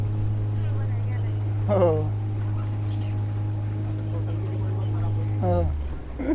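A steady motorboat engine drones through a sea boat ride, with a low constant hum that shifts pitch as the throttle changes, under people talking.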